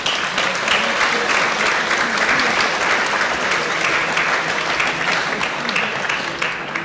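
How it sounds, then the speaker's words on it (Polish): Warm, loud applause from an audience at a 2022 election debate, a full and steady roar of many hands clapping close by for the whole stretch without letting up. "Okej, gorące brawa."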